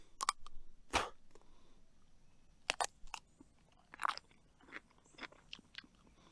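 Crisp, crunchy bites and chewing of a fresh garden cucumber, close up and quiet, in several separate bursts with pauses between them and no talking.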